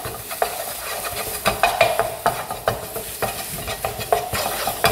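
A mini spatula stirs food in a hot pan during Korean cooking, giving quick repeated scraping strokes in an uneven rhythm over a constant sizzle, close and fairly loud with no talk.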